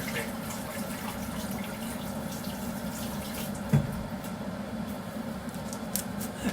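Tap water runs steadily into a kitchen sink while a chocolate bar wrapper is rinsed under it, a constant close splashing flow with a brief clatter partway through.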